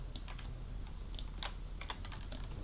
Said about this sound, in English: Just hitting G on my keyboard.